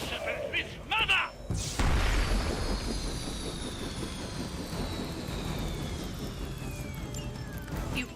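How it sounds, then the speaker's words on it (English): A helicopter is shot down in the video game Marvel's Midnight Suns, with a sudden heavy boom and crash followed by a long roaring, rumbling wash of debris and fading whine, preceded by brief voices. "You've grounded the helicopter."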